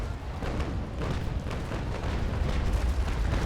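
Naval cannon fire in Naval Action Legends, a ship's guns engaging an enemy Navy Brig, with a steady rolling barrage of deep booms and rumble that stays loud and dense throughout.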